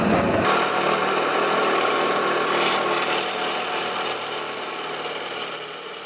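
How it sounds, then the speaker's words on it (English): A bandsaw cuts through an exotic wood pen blank in one continuous, loud, close rasping whine with a steady grinding texture that eases slightly toward the end. "I will just cut this on the bandsaw right here real quick"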